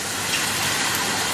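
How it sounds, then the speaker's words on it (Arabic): Water gushes steadily into a cooking pot while grilled salad is prepared, a continuous close, bright pouring rush with no talk. "نزيدوها ماء"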